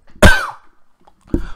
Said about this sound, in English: Sorry, I coughed right there.